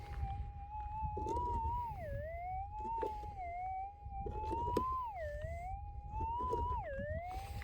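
Gold-prospecting metal detector over a buried target in a dug hole in Western Australia, giving a steady warbling tone that swoops down and back up repeatedly, loud and continuous over low ground rumble, with no talking.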